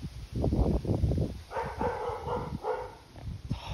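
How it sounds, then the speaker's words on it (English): A neighbor's dog barks in repeated bursts, several quick woofs at moderate distance, followed by higher yelping sounds. "Our neighbor's dog is barking."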